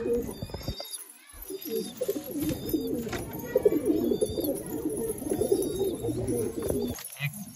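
Pigeons kept in breeding cages, among them a seven-to-eight-year-old bird, coo in a continuous, overlapping chorus close by, with faint high chirps above the low throaty rolling.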